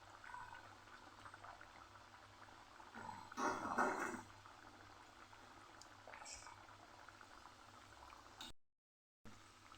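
Chakri, a crispy spiral snack, deep-frying several at a time in hot oil, a low steady bubbling hiss with a louder burst of bubbling partway through, fairly faint and close.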